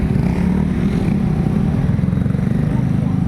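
Traffic on a street in front of a Fairway shop, a steady low rumble of passing cars and motorcycles close by that continues throughout without a break.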